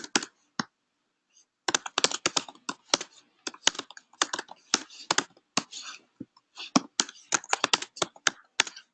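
Rapid, close keystrokes on a computer keyboard while writing a Node.js server file, crisp clicky bursts with brief pauses in between.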